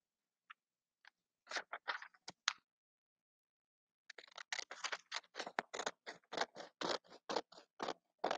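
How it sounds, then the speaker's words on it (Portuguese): Blunt-tip scissors snip through paper in a series of short, crisp cuts, sparse at first and then a dense, steady run of close, fairly loud snips with no talking. "Lembrando de usar tesoura sem ponta."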